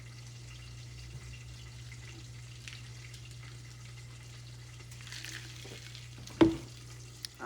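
Eggs frying in a pan for green eggs and bacon, a steady low sizzle running throughout with a faint hum beneath and a sharp clunk near the end.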